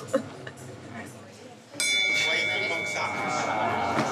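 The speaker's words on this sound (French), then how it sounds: "C'est l'heure de la cloche, ça veut dire qu'il faut monter." A bell starts ringing partway through at the world's deepest indoor swimming pool, a sustained bright metallic tone persisting over echoing indoor ambience with people's voices in the background.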